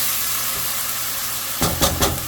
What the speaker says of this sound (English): A little bit of oil, just enough to cover the bottom. We're going to go ahead and add sofrito.